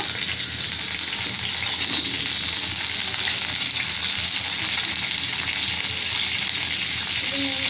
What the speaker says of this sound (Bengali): প্রথমে আমি আলুগুলোকে হালকা ব্রাউন কালার করে ভেজে নেব।